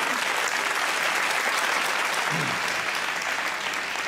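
A studio audience at a Pakistani comedy talk show taping claps in a continuous, even wall of applause, moderately loud and unbroken throughout the short stretch.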